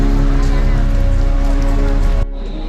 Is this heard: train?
no